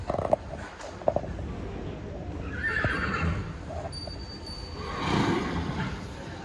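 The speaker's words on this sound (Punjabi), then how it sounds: "ਤੇ ਉਹ ਇੱਧਰ ਵੱਡੇ ਘੋੜੇ ਆ" A horse neighs twice in drawn-out whinnies over background clatter and a few sharp knocks, the calls moderately loud and somewhat distant.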